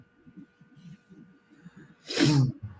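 A single loud sneeze bursts out near the end, following quiet background murmuring of a voice.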